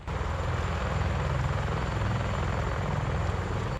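A CH-53E Super Stallion, a three-engine heavy military helicopter, flies with a steady, loud, continuous rotor and engine roar from start to finish, with no voices.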